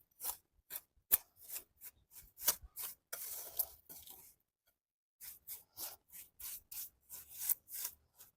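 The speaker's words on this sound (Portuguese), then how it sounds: "Sempre amassando, para ir destruindo as bolinhas de cimento" Sand and cement mix kneaded by hand for concrete decor, giving a series of close, dry gritty rubs and scrapes in irregular bursts with a short pause midway, no talking.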